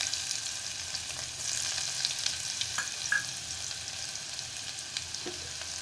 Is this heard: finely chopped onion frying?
yes